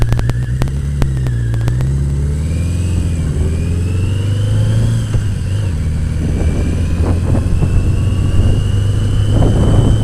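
A motorcycle engine roars steadily up close, its pitch rising and falling as it revs and accelerates, with rushing wind noise throughout.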